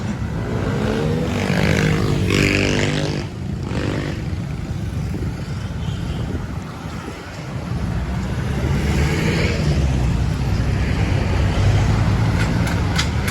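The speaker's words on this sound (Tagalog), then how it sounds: "Ayan, maraming sasakyan dito." Busy city road traffic on Quezon Avenue near Quezon Memorial Circle, with cars and motorbikes passing close by in a continuous loud wash, rising swells of engines and heavy wind buffeting the microphone.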